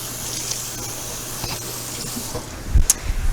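Tap water runs steadily in a kitchen sink while hands are washed, a close continuous hiss with a few splashy knocks near the end.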